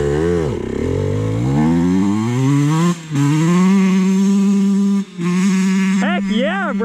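A small dirt bike engine revs wide open nearby, its pitch sweeping up and holding in long sustained whines, with two brief cutoffs between pulls and quick blips near the end.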